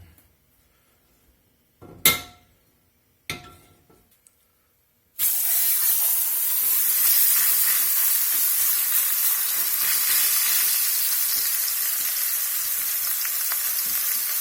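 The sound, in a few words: beef browning in hot oil in a pot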